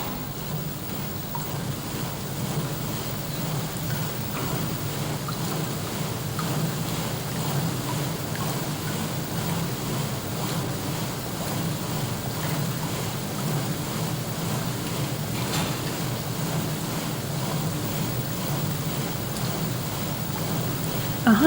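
Wavemakers in a wide laboratory wave tank produce a steady, continuous wash of moving water, like surf or a boat's hull noise, holding even loudness throughout with no speech.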